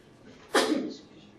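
A single sharp sneeze bursts out, loud and close, then trails off quickly into quiet room tone.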